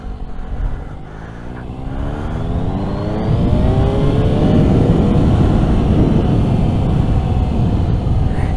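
A Suzuki GSX-S750 inline-four motorcycle engine revs and accelerates close by, its loud, rising whine climbing through the gears as the bike pulls away.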